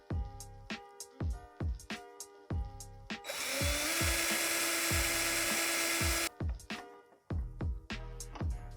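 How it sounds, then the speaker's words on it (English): A power drill bores through a PC case for a reservoir bracket mount in one steady three-second run, framed by repeated knocks and clatter of handling and tapping. "So let's get that drill out of here."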